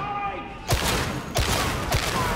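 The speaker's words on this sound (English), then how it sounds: "The recoil is real, but the gun is really powerful." Powerful gun firing in the video game Warhammer 40K Darktide: three heavy, evenly spaced shots punch through a constant dense backdrop of combat noise.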